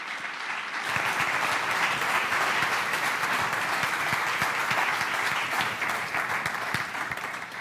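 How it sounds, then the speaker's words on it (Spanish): A church audience gives a strong round of applause to welcome a guest speaker, with dense, loud clapping that stays steady and full from start to finish. "por qué no lo recibimos con un fuerte aplauso a Brian?"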